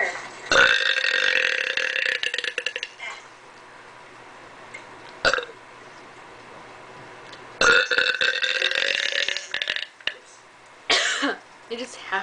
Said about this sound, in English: I just have to beat my boyfriend at the belching contest when I go visit him.